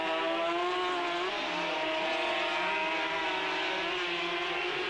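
An ADM LCR racing sidecar outfit at Le Mans runs at a loud, sustained high engine whine, holding a steady tone with slight pitch shifts as it passes.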